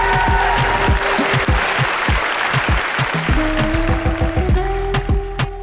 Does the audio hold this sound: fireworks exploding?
no